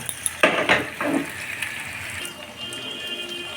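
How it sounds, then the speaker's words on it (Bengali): Eggplant pieces frying in a pan are turned over, giving a few quick metallic scrapes and clinks near the start, then a faint sizzle that fades. "এইভাবে উলট পালট করে নিলে বেগুনগুলো গলে যায় না।"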